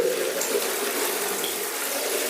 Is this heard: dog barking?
no